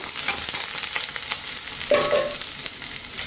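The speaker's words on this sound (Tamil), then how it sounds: "வெண்டைக்காய் இந்த மாதிரி வதக்கிக்கோங்க நல்லா சுருண்டு வரணும்" Okra sautés in a pan for hotel-style sambar, a steady close sizzle of frying with scraping stirs running throughout.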